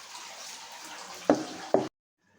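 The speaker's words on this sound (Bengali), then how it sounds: "আমার চাল ধোয়া।" Rice for pulao is rinsed in a pot of water, with a soft running-water wash followed by two sharp splashes in quick succession before the sound cuts off abruptly.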